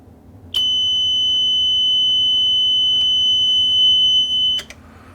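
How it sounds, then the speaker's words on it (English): Relays clicking inside a radio metering unit, then its buzzer sounding a steady high electronic tone for about four seconds, close and loud, with faint clicks at start and finish. "What we heard click and then we heard the buzzer go off is these relays fire here in the back of the inside of the metering unit."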